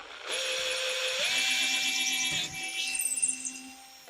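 Power drill boring out old maple dowels in the joint of an antique oak rocker, a steady loud whine that shifts pitch partway through as the bit bites and breaks through, ending with rattling.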